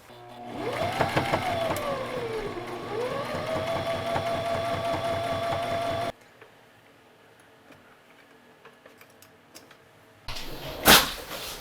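Sewing machine stitching a waistband, a steady close whirring hum with tempo shifts for about six seconds, then quiet with faint ticks before a brief loud clatter.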